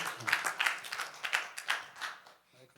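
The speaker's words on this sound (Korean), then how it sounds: "네, 박수" Applause from a church conference audience, a steady patter of many hands clapping at moderate level for a couple of seconds before fading out.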